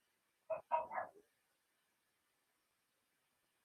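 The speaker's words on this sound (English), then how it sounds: "Sorry, that's my dog barking." A pet dog at home gives a short cluster of two or three close barks, then the room falls silent.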